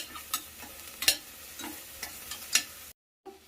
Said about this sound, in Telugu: ఇవన్నీ వేసుకున్న తర్వాత కొద్దిసేపు మనము ఫ్రై చేసుకోవాలి.